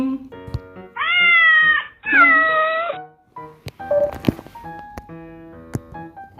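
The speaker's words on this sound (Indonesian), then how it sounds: "cat," A cat gives two long, loud meows back to back, followed by quieter scattered clicks and short tones, heard up close with no speech.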